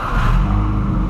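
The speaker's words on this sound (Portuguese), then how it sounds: "acabamos de colocar o escape esportivo no G6 e ele vai testar, mano" VW Gol G6 fitted with a sport exhaust roars loudly and close by, a deep steady rumble held through the short stretch with slight rises in pitch, revving without any break.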